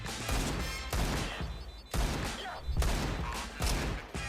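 A run of five loud, sharp Desert Eagle pistol shots in Counter-Strike 2, fired at a steady pace about a second apart, each with a quick decaying tail.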